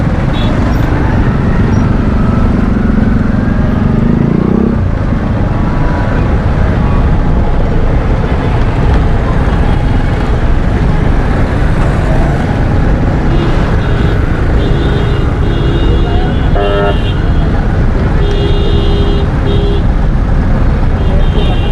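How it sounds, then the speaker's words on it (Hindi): A road traffic jam with cars and buses rumbles loud and close throughout, with engine noise and a few horn toots. A voice talks over the traffic. "आगे आगे थोड़ा सा जाम पड़ा हुआ है, लेकिन देखते हैं अभी जाम होगा या नहीं होगा, क्योंकि गाड़ियाँ चल तो रही हैं"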